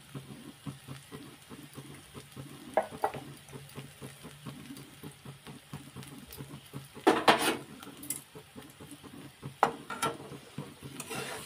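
Mashed boiled potato filling frying in a pan for sandwiches, with a steady soft sizzle under repeated scraping and clinks of a spatula against the pan, and a couple of louder metallic knocks.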